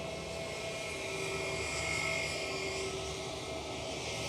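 A British Airways airliner at Amsterdam Schiphol airport produces a steady, moderately loud jet roar with a faint whine, swelling slightly midway and holding throughout.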